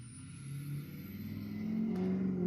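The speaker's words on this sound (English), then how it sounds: "my neighbor's got a loud truck and he's proud of it" A neighbor's loud truck revs nearby, its engine rising in a steady, building roar over a couple of seconds with no talking.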